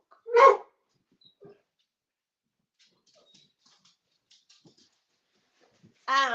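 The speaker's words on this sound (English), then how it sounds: "I do have dogs, so my dogs are always noisy and they love to do it when I'm on live." Dogs indoors give a couple of sharp, loud barks and yelps, one at the start and another at the end, separated by near silence with faint small noises and brief whines.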